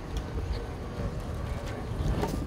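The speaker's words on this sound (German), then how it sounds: "Wieder ist es der Wind." Wind gusts across a harbour beside a lock where a crane stands ready, heard as a steady rumbling buffet of wind noise against the microphone with no voices.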